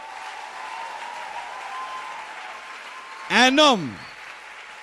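A church congregation applauds through steady, dense clapping, and a loud sustained shout or cheer swells briefly over it near the end; a voice speaks briefly.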